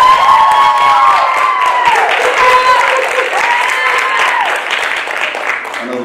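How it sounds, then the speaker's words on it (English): A crowd applauds two model seniors at a school event, with steady clapping mixed with cheers and high-pitched shouts from excited voices throughout. "Let's give them a big round of applause."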